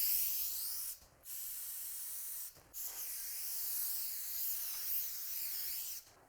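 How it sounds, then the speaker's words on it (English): Aerosol can spraying adhesive onto a wall and acoustic panel back in a bright, airy hiss, three sustained bursts broken by brief silences, close and clear. "we're going to spray around the pencil template that we've done"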